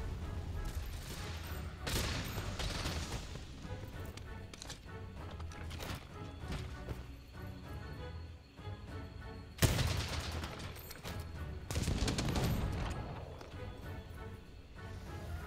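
Bowgun fire from Monster Hunter World: Iceborne comes in loud bursts of rapid shots, heaviest near the start, the middle and later on, with clattering impacts between them.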